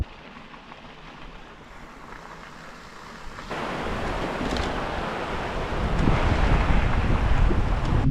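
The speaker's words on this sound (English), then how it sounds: "The Highlands in the mist, spitting and windy as usual." Steady wind roaring across the microphone in the misty Scottish Highlands, growing louder and gustier partway through and continuing without any voices.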